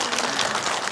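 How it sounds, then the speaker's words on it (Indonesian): Brief burst of audience applause at an Islamic religious talk show, a dense, loud wash of clapping lasting about a second. "Tepuk tangan"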